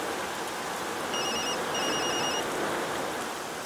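A telephone rings with an incoming call from an unknown number, giving two short electronic ringing bursts in quick succession. The ringing sits over a steady background hiss, and no one talks.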